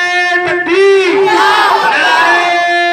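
At a religious gathering, a crowd answers a slogan with one loud, sustained collective shout that swells and holds for several seconds.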